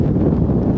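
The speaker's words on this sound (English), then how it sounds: "I'm literally blowing away here in 30 knots of wind" Strong wind of about 30 knots buffets the microphone on a windy mountainside, a steady low roar without pause through the short moment.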